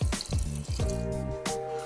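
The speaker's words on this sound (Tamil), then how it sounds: "ஸோ இதுல வந்து கொஞ்சம் தண்ணி மட்டும் ஊற்றிக்குவோம்." Water pours from a tap into a cooking pot in a kitchen, with a few splashy bursts and gurgling fill sounds over a couple of seconds, moderately close and with no talk.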